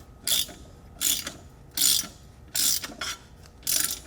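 Ratcheting clicks as a nylock bolt on a 2x72 belt grinder arm is tightened with a 5/16 Allen key and a 9/16 wrench, five evenly spaced bursts of close, crisp ratchet action with brief pauses between.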